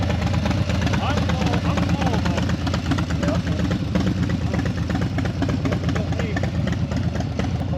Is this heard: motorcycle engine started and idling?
yes